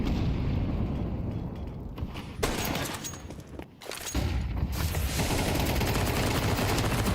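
Rapid automatic gunfire from MP9 submachine guns in a Counter-Strike esports match, sustained dense bursts filling nearly the whole stretch with a brief lull midway, loud and continuous.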